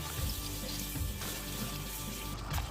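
Cold tap water running steadily over blanched bean sprouts being rinsed for bibimbap, a continuous soft splashing stream in a sink, quiet and unbroken with no talk.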